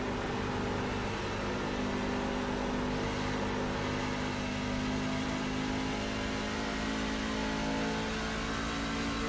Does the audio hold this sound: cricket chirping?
no